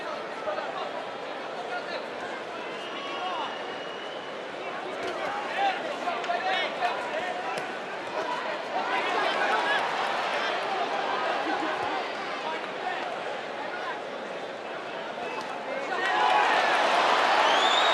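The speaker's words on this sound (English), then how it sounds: "Crowd willing Conlan on." Boxing arena crowd at Ancajas versus Conlan roars steadily throughout, a dense wash of cheering and chatter that swells toward the end, with commentary voices over it.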